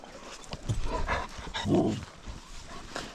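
Puppies whimper and pant close by in a noisy outdoor setting, with short yelps and snuffling sounds rising and falling over a few seconds.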